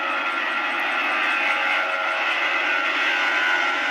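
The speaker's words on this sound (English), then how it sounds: "I heard one of these beauties flying overhead, and this is an Airbus" An Airbus A340 airliner passes overhead as a steady, loud broadband roar with a high engine whine, constant throughout with no talk.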